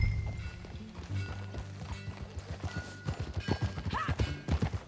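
Horse hooves clip-clop in a quick, steady trotting rhythm while riding in Red Dead Redemption 2, close and growing louder toward the end over a low ambient hum.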